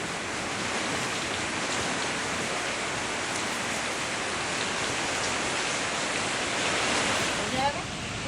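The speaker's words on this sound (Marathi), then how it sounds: "तर धाराशिवमध्ये सुद्धा वादळी वाऱ्यासह पावसाला सुरुवात झाली" Steady, dense rain driven by stormy wind during an unseasonal downpour in Dharashiv, a constant loud roaring hiss with no pauses, swelling slightly near the end.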